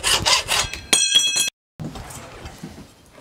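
Aluminium extrusion being cut to size: quick, harsh rasping strokes with a bright metallic ring, a brief silence, then softer scraping that trails off.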